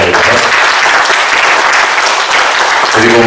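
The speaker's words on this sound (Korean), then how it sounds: "박수 한번 보내주시기 바랍니다." A church congregation gives loud, sustained applause during a service, a thick, continuous roar of clapping that stays even throughout, with a voice entering faintly near the end.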